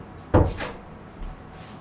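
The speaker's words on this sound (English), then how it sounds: "Let me make sure I shut the door all the way." A door pushed shut indoors, giving one solid thud followed by a softer knock and a faint click, with no voices.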